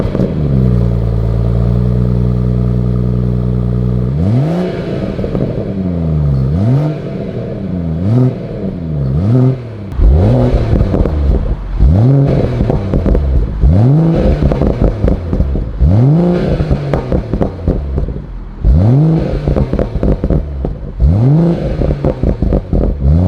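A BMW M140i with its B58 3-litre straight-six revs repeatedly from close by, loud swelling blips and sweeping rises and falls over a deep burbling idle, with no talking.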